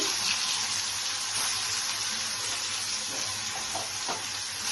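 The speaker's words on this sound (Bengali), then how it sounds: "আমি এখন পনিরগুলি অল্প ফ্রাই করে নিচ্ছি।" Paneer frying in hot oil in a pan, a steady dense sizzle holding at an even level throughout, close and continuous with no voices.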